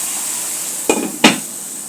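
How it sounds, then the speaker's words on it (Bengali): A metal lid lands on a frying pan of ridge gourd fry, making two quick clanks a moment apart over a soft, steady sizzle. "এখন দিয়ে দেবো আমি ঢাকনা।"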